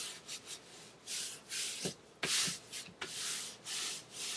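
A hand rubs and burnishes glued paper onto a page while building an 8x8 safari-themed book, making soft, repeated swishing strokes that are fairly quiet and close, with no talking.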